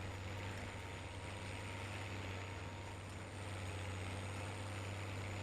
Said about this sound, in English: The tractor is a little bit loud for you to be able to hear the sound of the baler